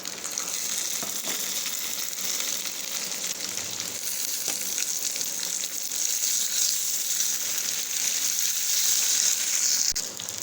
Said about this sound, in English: Now with this I am adding the tomato pieces.